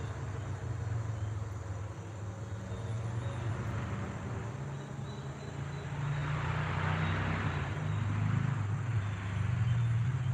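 A loud car drives along a road down by a creek, heard from some distance as a low broadband rumble that swells from about halfway through and stays strong to the end.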